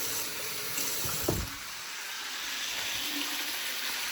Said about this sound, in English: I'll rinse out my jar with a little bit of water.